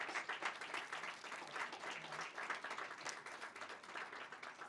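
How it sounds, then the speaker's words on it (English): Guests at a commemorative ceremony for the 223rd anniversary of the Haitian flag give a round of applause: sustained, fairly distant clapping with a rippling, uneven texture, lasting the whole stretch. "if we can just give them a round of applause"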